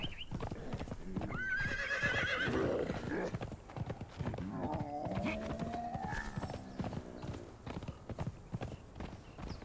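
A Stratos horse in Conan Exiles 3.0 gives a loud, drawn-out whinny over a steady clip-clop of hooves at a trot, with a voice talking faintly during the ride.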